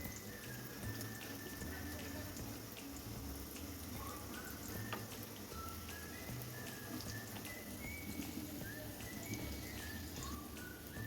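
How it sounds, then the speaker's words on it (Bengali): Dal puri made from leftover dal fry in oil with a faint, continuous hiss and fizz. Light crackling sits under a soft background tone. "সবগুলো ভেজে নিচ্ছি।"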